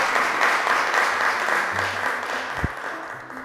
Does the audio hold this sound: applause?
yes